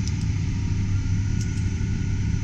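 A new Versatile 335 MFWD tractor engine runs under light throttle with a steady, loud low rumble close by and no talk over it.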